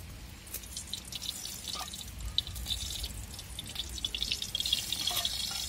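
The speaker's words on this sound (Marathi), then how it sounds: "आणि पाऊस पण येऊ राहिला थोडं थोडं" Light drizzle drips outdoors, scattered soft drops and taps landing near a cooking spot over a low background wash, quiet and irregular, without speech.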